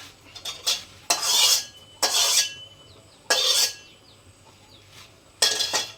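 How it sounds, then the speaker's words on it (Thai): Metal utensil scraping and clattering against a pan while stir-frying Thai curry paste, in several loud bursts separated by short pauses, close by with no talking. "จะผัดเครื่องแกงก่อนครับ"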